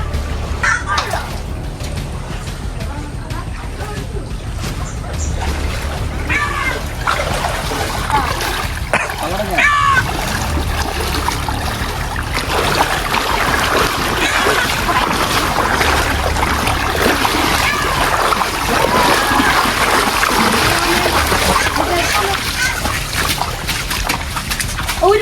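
A motorbike pushed through floodwater in rainy, waterlogged Kuttanad, with ongoing sloshing and splashing of water, irregular and fairly close, under intermittent talking voices.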